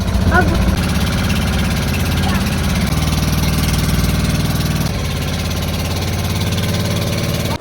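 Loud, steady chugging of a boat motor running close by, a continuous rumbling engine drone with a slight shift in pitch midway.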